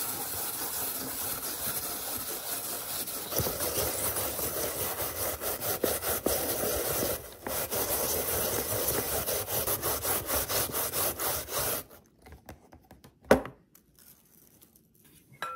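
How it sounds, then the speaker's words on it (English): Japanese yam is grated by hand for okonomiyaki, making a continuous wet, scratchy rasping close up. It runs steadily for about twelve seconds, then gives way to faint scrapes and a light knock. "Grate the Japanese yam."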